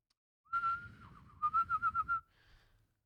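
A person whistles, imitating Superman's whistle: a held note that dips slightly, then a quick run of five or six short, bouncing pulses, ending in a faint trailing tone. The whistling is close and clear, with no talk.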